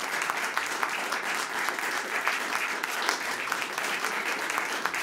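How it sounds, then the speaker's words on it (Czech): Audience applause after a double bass concert in Prague, a dense, steady clapping from a crowd that holds at full strength throughout without fading. "Potlesky pro vás."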